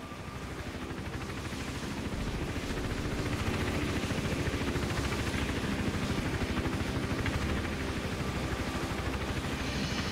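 Helicopter in the video game Hitman Absolution, a steady, loud rotor and engine drone that holds without a break for about ten seconds and swells slightly after the opening moments.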